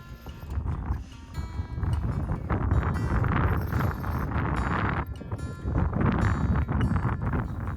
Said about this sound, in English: Unfortunately, the wind was non-stop this evening, with gusts up to 35 miles per hour